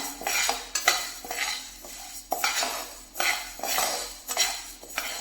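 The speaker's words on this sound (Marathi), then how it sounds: "मस्त हलकीशी भाजून घ्यायची आहे लो फ्लेमवरती कंटिन्यू हलवत राहायचं आहे ज्वारीला" Jowar grains being dry-roasted over a low flame and stirred continuously in a pan, with repeated metallic scraping and rattling strokes in an uneven rhythm, close and clear, with no talking.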